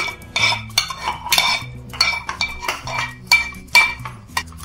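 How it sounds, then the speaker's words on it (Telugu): Cooked homemade baby food scraped and spooned from a pot into a serving bowl, with repeated metallic clinks and scrapes of a utensil against dishes in an irregular rhythm, close and fairly loud. "సర్వింగ్ బౌల్లోకి ట్రాన్స్ఫర్ చేసుకుందాం."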